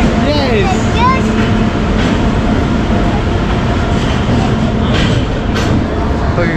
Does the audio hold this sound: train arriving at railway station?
yes